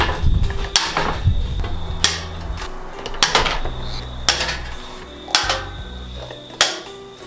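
Riveting sheet metal floor tabs on a Triumph Tigress scooter: a series of sharp metallic snaps, about eight, irregularly spaced with short mechanical clatter between them, close and fairly loud.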